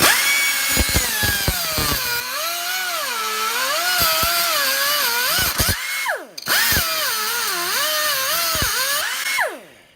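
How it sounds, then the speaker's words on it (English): A small cut-off wheel grinds into an aluminum motorcycle clutch or brake lever, giving a high, wavering whine that rises and falls as pressure changes, broken by a brief pause and sharp clicks, close and loud. "I'm going to use this little cut-off wheel, which doesn't work great on aluminum"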